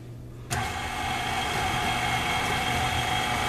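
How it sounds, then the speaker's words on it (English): A KitchenAid stand mixer blending apple squares batter switches on after half a second, then holds a steady, close motor whir with a faint tonal hum to the end, with no talking. "And then you want to let the KitchenAid mix"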